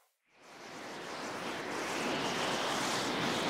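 A wind sound effect for a falling scene swells from near silence into a broad, steady, hissing rush that keeps building, with no voices over it.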